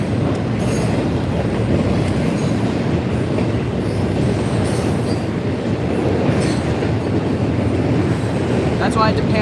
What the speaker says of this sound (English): follow the locomotive across the bridge